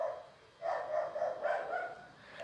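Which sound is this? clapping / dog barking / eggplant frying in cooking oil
dog barking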